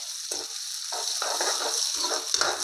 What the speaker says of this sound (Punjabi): ਦੋ ਹਰੀਆਂ ਮਿਰਚਾਂ ਥੋੜਾ ਜਿਹਾ ਅਦਰਕ ਬਰੀਕ ਕੱਟਿਆ ਇਹ ਪਾ ਦਾਂਗੇ ਇਹਨਾਂ ਨੂੰ ਵੀ ਆਪਾਂ ਹੁਣ ਭੁੰਨ ਲਾਂਗੇ